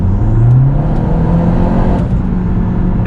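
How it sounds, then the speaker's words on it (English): Car of just under 300 kilowatts accelerating hard in sport mode, its engine note rising steadily and loud from close range, with no talk over it. "strong acceleration, particularly on the freeway when you want to overtake"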